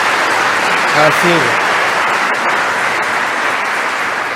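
A church congregation applauds during a Sunday service, a steady dense wash of clapping filling the whole stretch, with a brief voice speaking over it near the start.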